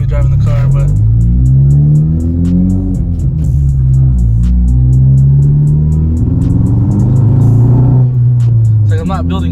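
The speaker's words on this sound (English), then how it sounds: "It's like I'm not building boost, or I'm misfiring like crazy." A car with a misfiring engine that won't build boost revs hard and loud, its rumbling note swelling and falling unevenly with sharp crackling bursts, heard from inside at close range.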